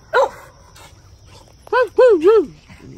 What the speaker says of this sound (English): What you barking at? Always got something to bark about.